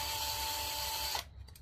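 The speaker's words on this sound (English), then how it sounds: "I do not use the drill to break it loose, just to remove it once it's already loose." Power drill spinning out a loosened cylinder head bolt on a Honda Nighthawk CB700SC motorcycle engine, a steady high whine that cuts off abruptly, followed by faint clatter.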